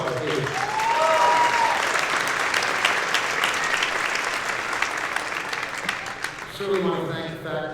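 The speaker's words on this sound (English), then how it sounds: "give another round of applause, please." Audience applause at a high school pops concert, a dense sustained clapping from a crowd in a hall lasting the whole stretch, swelling early and easing slightly toward the end.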